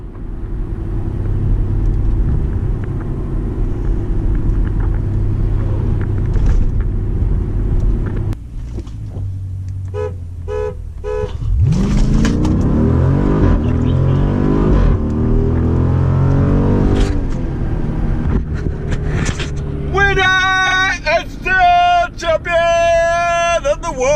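A 2016 Jeep Grand Cherokee SRT and a 2018 Dodge Durango SRT rumble and rev hard, accelerating with rising pitch, loud and close, with brief beeping tones and a voice near the end.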